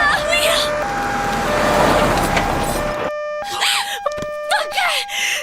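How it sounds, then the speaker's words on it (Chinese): An ambulance siren arrives with a loud, close, repeating two-tone wail that shifts between pitches, over a noisy scene of agitated voices at first, then ringing out more clearly. "救护车来了！"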